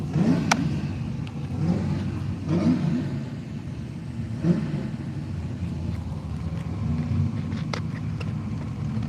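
At Willowbank Raceway, drag race cars rumble low in the distance under wind noise, with a few sharp bursts and faint revs spread across the clip.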